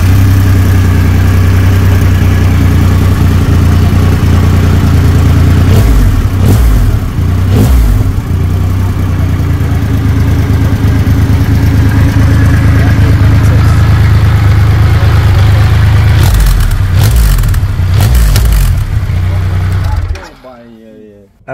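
A 2500cc Triumph Rocket 3 GT motorcycle engine idles loud and close with a deep, steady rumble, briefly blipped and revved a few times, then shut off at the end.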